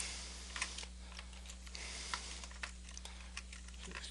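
Quiet, close typing on a computer keyboard, a loose patter of light key clicks running steadily over a constant low electrical hum, with no voices.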